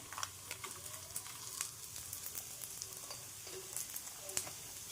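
Local red chillies dry-roast in a pan over a low gas flame, giving a faint, steady crackle and sizzle with small popping ticks scattered throughout.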